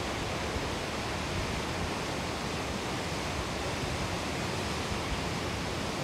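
A steady, dense roar of falling water at High Force waterfall fills the air, constant and unbroken, with no voices, despite very little water flowing.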